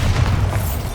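A deep, booming blast from the Bombarda spell in Hogwarts Legacy, one heavy rumbling explosion that is loud and close and fills the short moment.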